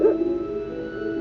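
A short dog bark or yip from the video game Secret of Evermore, one bright sound at the start trailing into a tonal hum, clear and close with no talk.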